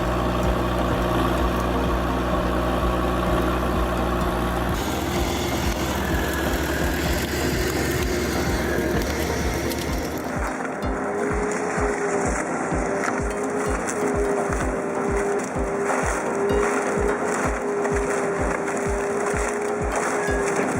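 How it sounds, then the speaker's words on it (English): An Arges VZ750D wood shredder runs with a loud, continuous engine roar whose tone changes partway through, settling into a rapid, steady mechanical chopping pulse. "This is the Arges VZ750D, a wood shredder rightly called a true beast"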